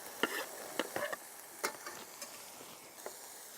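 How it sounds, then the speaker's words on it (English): Celery, garlic and carrots landing in a pan of hot olive oil, a soft crackling sizzle with sharp bursts and scrapes as the vegetables drop in and are moved about. "So I'm going to put all of this in now. Celery, garlic, carrots."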